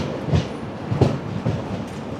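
Netravati Express passenger train running through Kerala, with rhythmic wheel clatter over rail joints in a steady beat of clicks and thumps, heard close from on board.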